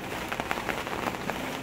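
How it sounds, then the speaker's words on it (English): Rain falling outside an orchid garden, a dense steady patter with scattered louder drops, moderately close and alone without speech. "And it's raining now."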